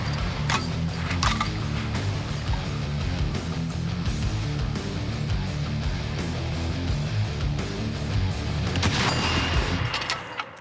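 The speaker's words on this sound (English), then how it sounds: "That's good shooting." Rifle gunshots fired in a timed shooting drill comparing 6.5 Creedmoor and .375 H&H rifles, sounding as dense continuous booming reports with sharper cracks near the start and end.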